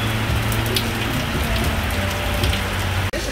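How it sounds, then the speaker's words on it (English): Steady rain falls on a surface in Yaoundé, a dense continuous hiss with scattered drop patter and a low hum beneath, no voices, cutting out abruptly near the end. "Like, I cannot even believe that the rain is falling."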